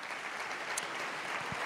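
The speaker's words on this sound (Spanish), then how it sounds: "Dele palmas al Señor." A church congregation applauding during a Spanish-language worship service at a ministry retreat, a steady, soft wash of clapping heard from a distance with no voices.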